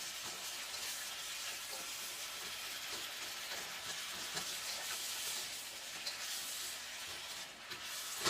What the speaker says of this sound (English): Stir it around because it's called a stir fry